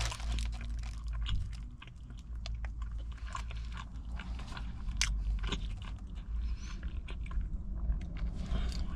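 Close crunchy bites and chewing on a 7-Eleven beef steak taquito, a series of crisp cracks and crackles over soft mouth noises, with no talking.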